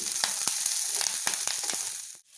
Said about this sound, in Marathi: परत एकदा व्यवस्थित भाजून घ्यायचं, जास्त करपवायचं नाही